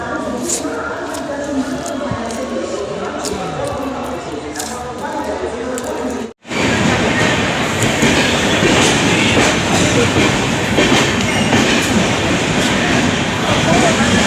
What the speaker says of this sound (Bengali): আমাদের ট্রেন ঢুকে গেছে, এখন আমরা যাব।